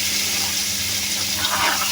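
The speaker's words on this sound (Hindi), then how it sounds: "ज़रा सा पानी डाल दें" Water poured into simmering mutton nihari curry masala in a cooking pot, a steady close splashing gush lasting throughout with no talk over it.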